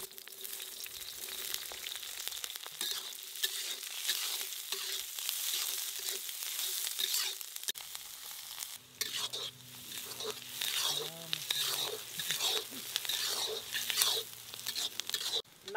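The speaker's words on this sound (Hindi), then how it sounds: "चलो ऑयल तो गरम हो गया, अब डालेंगे ग्रीन चिली।" Green chillies hit hot oil in a kadai at an outdoor cooking spot, a steady hiss of frying that grows busier and crackly once they drop in, with brief clatters from stirring.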